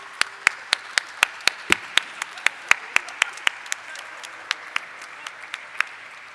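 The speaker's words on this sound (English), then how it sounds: "Keep the applause going, ladies and gentlemen." Audience applause at the stock exchange listing ceremony for Eureka Forbes Limited, sparse individual claps ringing out at a steady pace, fairly close and clear with a light room murmur beneath.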